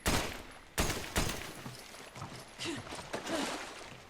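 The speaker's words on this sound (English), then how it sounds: "I'm going fishing using a machine gun." Machine gun fire aimed at fish in the Resident Evil 5 marshlands, heard as several sharp loud bursts of gunfire at the start, followed by softer scattered shots and splashy game effects.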